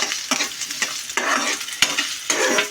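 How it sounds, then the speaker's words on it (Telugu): Ginger frying in peanut oil in a pan, stirred with a utensil: a steady crackling sizzle broken by repeated scraping strokes and clinks, close by with no talking. "ఇలా అనేది ఫ్రై చేసుకోవాలన్నమాట అల్లం అనేది ఇలా అనేది కలుపుతూ ఉండాలన్నమాట"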